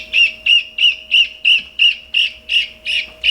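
A guinea fowl chick, just taken from a brooder, peeps in a regular series of about ten shrill chirps, close and clear, with a faint steady hum behind.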